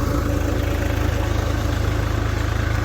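A Swaraj tractor engine runs a generator pumping water, a steady, loud engine with an even low throb that does not let up.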